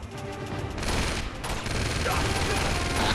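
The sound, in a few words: gunfire from an M4 rifle in the video game Uncharted 2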